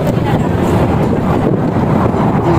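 Strong wind buffeting the microphone in a continuous low roar, loud and close, with no clear pauses.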